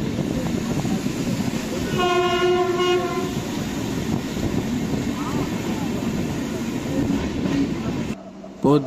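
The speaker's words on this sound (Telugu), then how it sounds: "పొద్దున్నే ఒక గూడ్స్ ట్రైన్ అయితే క్రాసింగ్, అది కూడా ఫ్లాట్ బెడ్." A goods train of flatbed wagons rolls past nearby with a loud, continuous rumble and rattle, and a sustained horn blast sounds partway through before the noise cuts off abruptly near the end.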